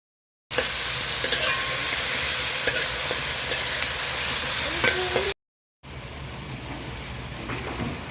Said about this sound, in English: I'm gonna take it out and add the sugar to brown